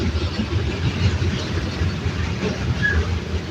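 A train rolls past on a railroad right beside a home, a loud, close, continuous rumble with low mechanical droning and faint wheel clatter, no talking over it.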